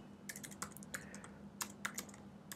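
Computer keyboard typing while code is entered in Xcode, a quick uneven run of crisp, close key clicks with short pauses, alone without talking over a low steady hum.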